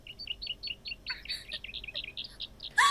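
Small birds in the Yu Yu Hakusho anime chirp in a quick, steady series of light high tweets, fairly close and alone, ending in a sudden louder burst.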